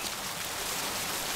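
Steady rain falling, a dense continuous hiss of drops at constant loudness, with no talk.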